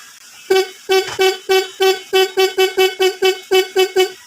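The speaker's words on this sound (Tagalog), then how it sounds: "malakas na ulit mga boss yung busina" A repaired car horn honks loudly in a fast series of about a dozen short, evenly spaced blasts, close and strong.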